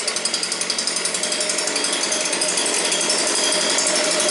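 Stihl BG56 leaf blower, its two-stroke engine running steadily after a single-pull cold start, loud and close with a fast rattling pulse that smooths out as it settles.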